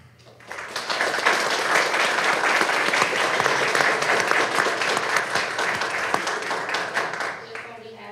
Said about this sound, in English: Please join me in a round of applause to celebrate Lupus Awareness Month.